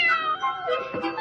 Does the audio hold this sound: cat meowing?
yes